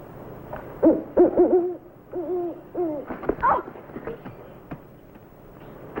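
Someone imitates an owl with a series of hollow hooting calls used as a signal outdoors on rough terrain, several hoots in an uneven rhythm, fairly close and clear with little else around.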